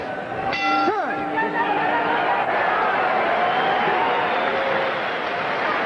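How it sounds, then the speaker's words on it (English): A boxing arena crowd roars steadily behind a commentator's voice, with a bright bell clang ringing out near the start before the crowd noise carries on. "And the crowd gets behind the challenger again."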